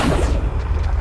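Confringo fire-blast spell in Hogwarts Legacy, a short booming explosion with a heavy low-end thud that rolls out over about a second.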